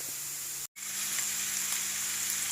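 Courgettes fry in a hot pan with a continuous loud sizzle that drops out for a moment, then resumes at full, even strength.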